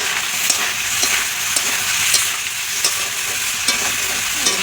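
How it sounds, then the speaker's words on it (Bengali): Sliced potatoes fry in hot oil in a home kitchen pan, giving a loud, constant sizzle broken by regular clinks and scrapes of a stirring spoon, with no one speaking. "এই যে আলু ভাজা হয়ে গেল"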